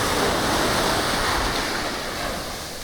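Steady roar of sea waves washing onto a Pondicherry beach, broad and continuous, with some wind; no voices.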